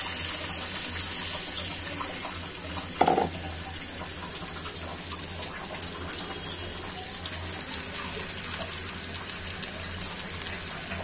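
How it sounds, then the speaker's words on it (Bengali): Water pours from a blender jar into a cooking pan of frying jackfruit, a continuous close splashing gush with one brief louder knock early on, and no voices. "যে ব্লেন্ডার জারের পানিটা দিয়ে দিচ্ছে"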